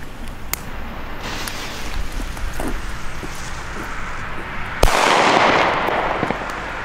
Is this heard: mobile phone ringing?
no